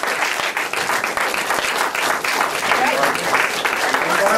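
An audience at a climate and jobs workshop in Portland, Oregon claps steadily for the planning committee members, a dense, even applause held for several seconds.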